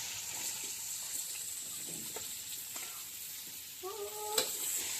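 Chilli chicken frying in a kadai, a steady soft sizzle with occasional stirring scrapes and a brief clatter near the end, no talking.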